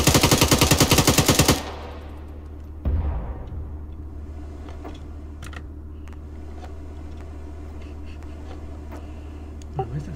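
A rapid burst of automatic video game gunfire rattles for over a second, then gives way to a dull background rumble with a few scattered pops and shots.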